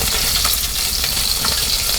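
Pomfret fish sizzles loudly in oil in a wok, a dense steady crackle with small spatters and stirring scrapes.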